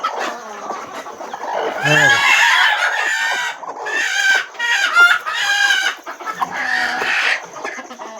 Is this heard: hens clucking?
yes